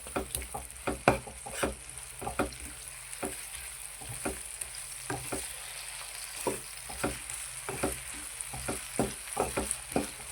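Onion and tomato frying for a restaurant-style capsicum curry, a soft continuous sizzle broken by regular rhythmic stirring scrapes, fairly quiet and free of talk.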